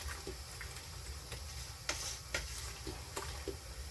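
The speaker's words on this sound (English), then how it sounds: "Stir it in really well." Brown sugar being stirred into zucchini bread jam in a pan, soft scattered scraping ticks from a spoon over a faint steady sizzle, quiet and close.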